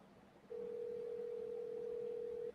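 A telephone call rings out on the line while waiting for an answer: a single steady tone starts after a half-second pause and holds clearly for about two seconds before cutting off.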